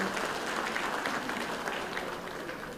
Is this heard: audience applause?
yes